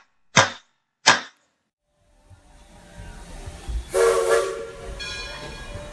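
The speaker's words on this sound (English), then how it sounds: "The train is now leaving the Interpretation Station." A departing-train sound effect: two sharp clicks, then a rising rumble of rolling railcars with hissing and a loud horn blast swelling midway and trailing off.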